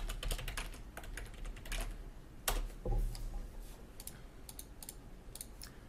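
A computer keyboard clatters as a file name is typed in, with quick, irregular bursts of close, quiet key clicks and brief pauses between.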